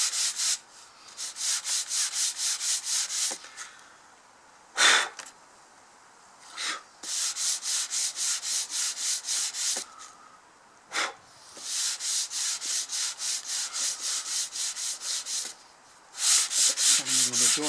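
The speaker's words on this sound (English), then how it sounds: "I think an old-fashioned sanding block, a piece of sandpaper. Works really well." Sandpaper on a sanding block rasps back and forth across a balsa model aircraft wing outdoors on a windy day, in steady rhythmic strokes broken by short pauses, close and fairly loud.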